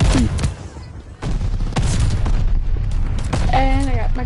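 Mortar strikes rain down in the video game Call of Duty: Vanguard, with loud, dense booming explosions and crackling gunfire throughout and voices talking briefly over the din.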